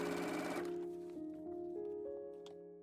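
A sewing machine runs steadily, stitching a skirt and its lining together at the waist seam, starting loud and easing slightly as the motor hums on alone.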